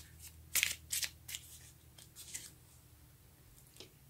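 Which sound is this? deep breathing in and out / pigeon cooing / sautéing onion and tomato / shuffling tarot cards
shuffling tarot cards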